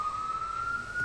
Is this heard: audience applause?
no